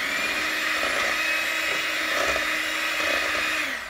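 An electric hand mixer beats a bacon cheeseball mixture of cheese and nuts with a steady, close whirring drone that holds at a fairly even level throughout, with no talk.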